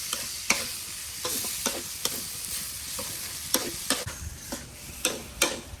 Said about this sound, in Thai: สาวน้ำเรียบร้อยแล้วลงไปผัด